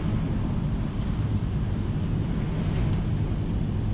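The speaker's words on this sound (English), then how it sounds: "every time I come down here, the wind picks up." Steady, loud wind roaring across the microphone at an allotment by a greenhouse, a continuous low buffeting rush that fills the whole stretch without a break.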